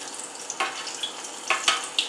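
Shrimp wontons sizzle and crackle in a hot frying pan, giving a steady close hiss with sharper pops scattered throughout and no talking.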